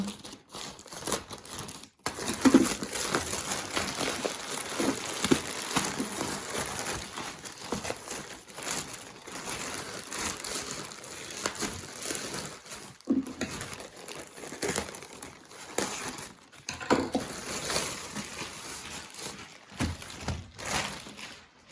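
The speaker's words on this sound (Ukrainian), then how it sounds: "Відкриваю зараз цей пакунок." Plastic packaging crinkles and rustles continuously as a large parcel holding diamond-painting pictures is torn open, with irregular crackles and brief pauses.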